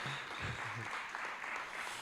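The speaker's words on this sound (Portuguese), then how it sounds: "uma salva de palmas para o grande montador de acorde" Applause from an audience at a music workshop, a steady dense patter of clapping sustained across the whole stretch at moderate distance, with a few faint voices beneath it.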